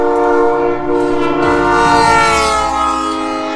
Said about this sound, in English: this guy has a straight up train horn attached to his trunk?